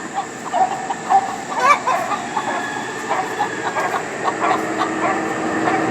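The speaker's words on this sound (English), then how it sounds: "Chickens. Oh. 3 chickens." Chickens cluck and squawk in scattered bursts over a steady low rumbling background hum, the birds moderately close and the noise continuous throughout.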